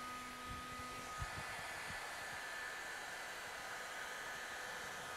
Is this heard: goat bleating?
no